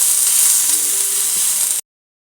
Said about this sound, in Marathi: त्यामध्ये आपल्याला कांदा भाजून घ्यायचा आहे. कांदा पण सोनेरी रंगावरती भाजून घ्यायचा आहे.